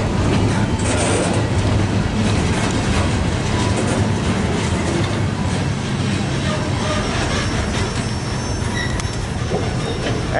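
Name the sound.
southbound train passing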